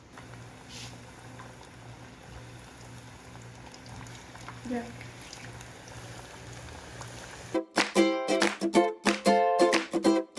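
Plantain slices bubble and sizzle steadily in oil in a pan for several seconds, then a voice starts talking over the frying.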